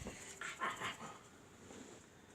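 A dog whimpers and pants softly while pawing to reach a toy, a few short whiny yips up close followed by quieter breathing.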